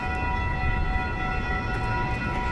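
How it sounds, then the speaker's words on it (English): Train approaching through downtown Fort Lauderdale, a steady loud rumble with sustained tonal horn-like whine layered on top, continuous and close, without talk. "There's a train coming, so"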